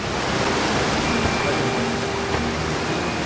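Waterfall in the game Outer Wilds: a constant, broad rushing roar of falling water, steady and fairly loud with no breaks.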